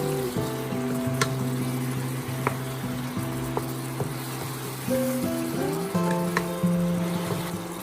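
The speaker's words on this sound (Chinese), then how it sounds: "加入适量的生抽翻炒均匀。" Winter melon and shrimp are stir-fried with light soy sauce, giving a steady sizzle and occasional spatula clicks beneath continuous background music.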